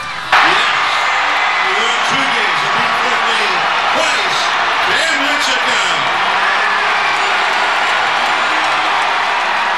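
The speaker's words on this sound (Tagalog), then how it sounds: "Lalong tumindi ang hiyawan ng ipakilala sa entablado ang bigating Giant." A large crowd roars and cheers as a Giants basketball player is introduced on stage, a loud, sustained wall of shouting and whooping with voices rising and falling throughout.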